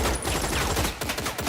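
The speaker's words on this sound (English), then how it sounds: "Vale starts shooting wildly at camel spiders" Dense, wild gunfire from a film scene in The Mummy, loud and continuous bursts of rapid shots with no clear gaps.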